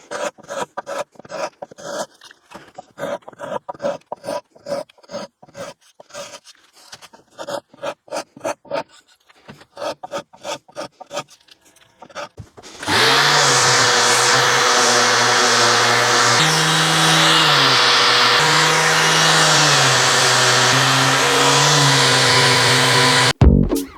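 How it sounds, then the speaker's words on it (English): Edges of a wooden jewellery box are trimmed and then sanded: a dozen seconds of short, rhythmic rasping strokes with brief gaps between them, giving way to a loud, continuous whirring sanding noise that runs steadily to the end. "I'm going to just quickly take off the edges and then give the whole box a bit of a sand"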